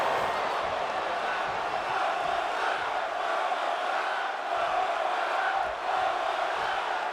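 A virtual wrestling arena crowd in WWE 2K23 roars and chants continuously at a steady, dense level, sounding large and somewhat distant, with a faint voice underneath.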